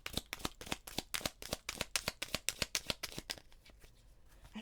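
Tarot cards are shuffled and flipped close by in a quick, steady run of papery riffles and slaps, with no talking.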